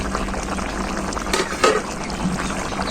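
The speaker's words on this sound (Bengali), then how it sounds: "ঝোল খুব ভালোভাবে ফুটে গেছে আর মাংসটা খুব ভালোভাবে সেদ্ধ হয়ে গেছে" Chicken curry gravy for lemon chicken bubbles in a pot at a steady simmer, a close, continuous burble with occasional louder pops.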